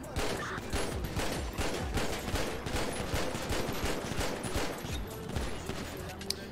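Rapid gunfire in GTA RP, the Grand Theft Auto role-play game, rattles on in steady, dense automatic bursts throughout, loud and close, with a faint voice underneath.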